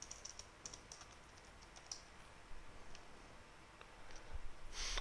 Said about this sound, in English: I type in something here